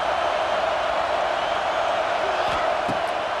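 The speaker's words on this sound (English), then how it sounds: "Decibels rising as the crowd gets behind this defense on 3rd down." A stadium crowd in EA Sports College Football 26 roars on third down, a dense, steady wall of cheering at a constant level with faint thumps underneath.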